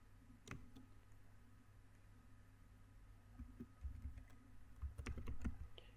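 Soft, quick keystrokes on a computer keyboard while writing script logic code, scattered clicks in uneven bursts that grow busier toward the end, quiet and close against a faint hum.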